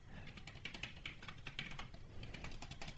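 Fingers type steadily on a computer keyboard, a quick run of light, close clicks and taps with short irregular gaps, heard alone against a quiet background.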